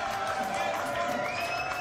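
A French TV studio audience applauds and cheers as a guest writer is welcomed, a steady dense wash of clapping with a few whoops throughout.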